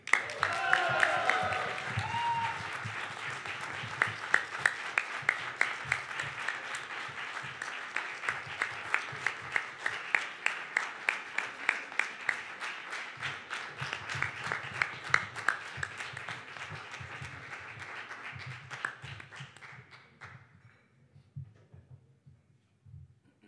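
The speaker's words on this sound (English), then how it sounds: "And a big hand of applause for number two, Andrea." Audience applause at the final of the ASI Best Sommelier of Asia & Oceania 2022, a sustained, dense clapping from a crowd lasting around twenty seconds before fading out.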